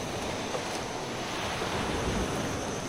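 Sea waves wash steadily against the shore after a storm, a continuous broad roar of surf mixed with wind buffeting the microphone, loud and close with no voices.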